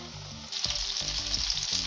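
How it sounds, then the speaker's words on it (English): Small turkey fingers shallow fry in a pan of oil, giving a close, constant sizzle threaded with quick crackles and pops that grow a little louder partway through. "I am shallow frying this"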